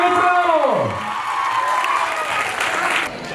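Loud applause and cheering from a large audience at a school kids' award event in Gujarat, a dense roar of clapping and shouts that swells then settles over a few seconds, with a voice briefly heard in the mix.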